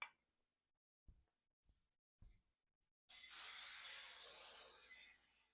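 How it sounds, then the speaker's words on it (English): Cooking oil spray hitting a hot griddle while pancakes are being made: a few soft clicks and taps, then a sudden sustained hiss that stays loud and steady until the end. "So we want to spray this really good with Palm or some kind of cooking oil,"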